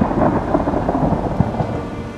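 Heavy cloudburst-like rain pours down in a rural village in Maharashtra, a loud dense roar with rolling thunder rumbling underneath.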